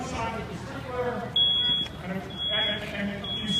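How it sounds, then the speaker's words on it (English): A smoke alarm goes off during a fire-prevention demonstration with sprinklers, its high piercing beeps cutting in over a continuous murmur of talking and crowd noise. "already the smoke alarm is going off."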